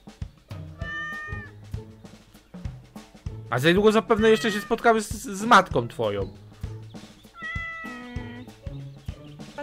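A cat in the Minecraft video game meows a few times, with one clear meow near the start and another near the end, while people chat over it throughout.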